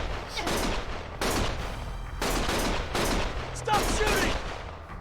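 Bursts of gunfire in the action game Lost Judgment, rapid volleys of shots coming in several loud clusters a second or so apart, close and dense, with brief pauses between them.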